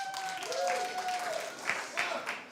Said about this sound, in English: Clapped if you watched The Connors